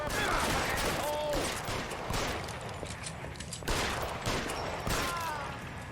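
Gunfire crackles through a shootout in the video game L.A. Noire, with repeated loud shots over music and ambient game noise, with a voice talking briefly.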